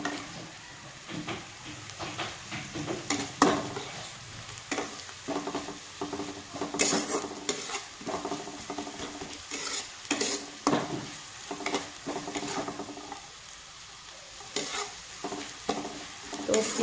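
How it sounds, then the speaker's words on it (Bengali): Onion with garlic paste fries in a pan, a continuous sizzle broken by frequent rhythmic scrapes and stirring strokes of a spoon, close and moderately loud. "তো রসুনের সাথে পেঁয়াজটাকে আমি আর একটু ভেজে নেব।"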